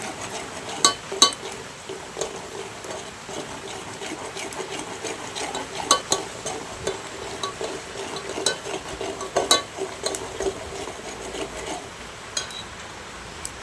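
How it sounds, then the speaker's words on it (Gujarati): Chili is stirred into hot oil for a kantola curry, giving a low sizzle under repeated spoon scrapes and clacks against the pan at an irregular rhythm, with no voices. "તો મરચું નાખીને હવે ઘડીક હલાવવું"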